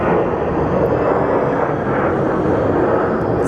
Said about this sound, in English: I guess now the Dreamliner is actually crossing over.